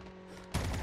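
Call of Duty Mobile gunfire cuts in halfway through as a sudden loud burst of rapid automatic shots over faint game background noise.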